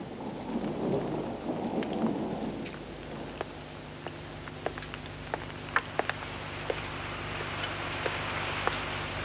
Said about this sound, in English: We're going to have a storm.